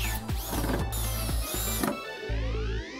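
A mechanical floor joist clamp fixture hooked under a joist and screwed into the subfloor being tightened to stop a squeaking floor, giving a run of close, loud grinding and whirring bursts with brief pauses, like a power driver, with no talk.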